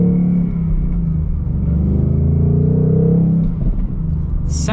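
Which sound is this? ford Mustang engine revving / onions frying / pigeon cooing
ford Mustang engine revving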